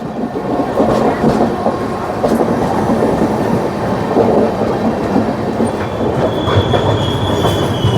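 Kalka Netaji Express 12312 passing on its way to Kanpur, a loud continuous rail rumble with steady wheel clatter and a thin squeal of wheels rising near the end.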